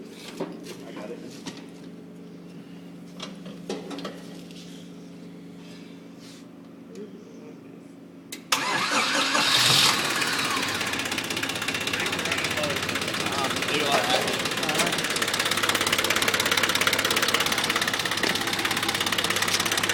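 A small red tractor's diesel engine turns over and abruptly catches, then settles into a steady, rumbling idle close by. People talk over it before and during the run.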